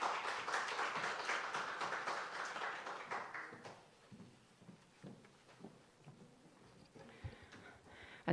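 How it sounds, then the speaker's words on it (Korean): Audience applause welcomes an elementary school principal at a school admissions information session, loud at first and then thinning out into scattered, fading claps. "우리 박수로 환영 부탁드릴까요?"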